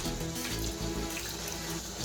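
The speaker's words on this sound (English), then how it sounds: "I'll drain off the water again." Steady, fairly quiet rush of water running into a kitchen sink as rinse water drains off raw chicken being cleaned with lemon and vinegar, continuous with no voices.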